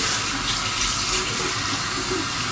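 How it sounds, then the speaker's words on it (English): Warm tap water runs steadily into a bathroom sink while a face mask is rinsed off, giving an even, close hiss of flowing water with no talking. "I'm going to rinse this off with warm water."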